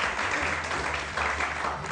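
Studio audience applauding during a Ramadan iftar television transmission, a dense steady wash of clapping holding at even loudness for two seconds.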